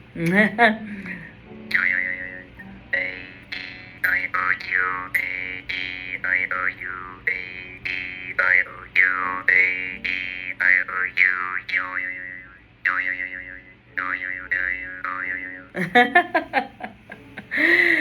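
A medium-sized jaw harp twangs in a quick rhythmic pattern, the resonant tone warbling and bending as the mouth shape changes, close and clear.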